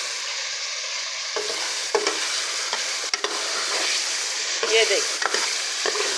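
Thick-cut potatoes frying in onion masala, a soft continuous sizzle punctuated by several distinct scrapes and knocks of a spoon stirring the pan, with someone briefly speaking over it.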